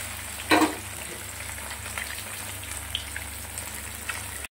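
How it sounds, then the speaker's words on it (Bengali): Katla fish fries in a pan of oil with a steady, close sizzle and a brief louder spatter near the start. "চলো মাছটা ভেজে নিই।"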